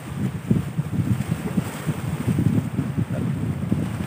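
Heavy surf from large ocean waves along a rocky shore where sea snails are gathered, a steady low rumbling wash with strong wind buffeting the microphone throughout.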